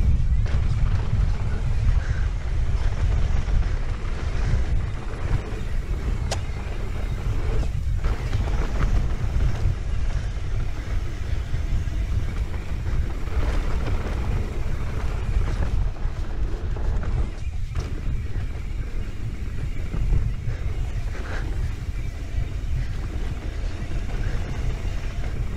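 Strong, steady wind roars across a microphone on a dusty mountain bike trail at Timberline Lodge Bike Park, a continuous low buffeting rumble that fills the whole stretch with gusty swells and no other clear sound.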